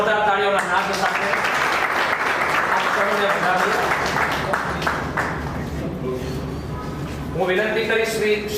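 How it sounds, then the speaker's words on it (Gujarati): Loud, sustained audience clapping at a photography exhibition in Bhavnagar, a dense crowd applause filling the whole stretch with voices mixed in near the start and end. "જોરદાર તાળીઓના નાદ સાથે"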